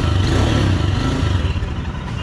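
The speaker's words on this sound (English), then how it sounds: "the engine sound is pretty much smoother than the before" A Royal Enfield Himalayan BS4 motorcycle engine idles nearby with a steady, smooth low hum, fairly loud and unbroken.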